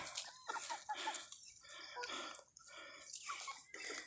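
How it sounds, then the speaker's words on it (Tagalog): Several chickens clucking and chattering busily up close while eating chopped banana, with short overlapping calls over a steady background hiss. "Ang tatakaw ng mga manok ko."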